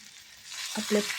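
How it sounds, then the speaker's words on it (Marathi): Okra sizzles gently in a pan of roasted masala with turmeric, a soft steady hiss that swells briefly near the end as it is stirred. "हा मसाला भाजून झाला आता आपल्याला यामध्ये भेंडी टाकली आहे मी."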